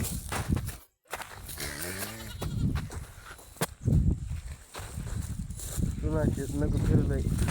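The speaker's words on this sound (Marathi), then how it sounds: "इतक्या शेळ्या आहेत." A herd of goats out in the heat bleats loudly nearby, with wavering calls repeating over shuffling hooves while people talk throughout.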